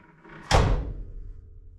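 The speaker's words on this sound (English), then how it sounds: "So this is the driver's side door." A vehicle's driver's side door on a custom motorcycle hauler slams shut with a single solid thunk, close by, followed by a faint lingering rumble.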